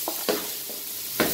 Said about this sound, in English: We're just going to fold in the ackee.